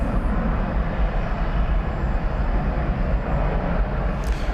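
UPS Boeing 767-300 being pushed back at DFW Airport, a steady distant roar of jet engines and ground equipment rumbling evenly throughout, with a thin high whine above and no voices.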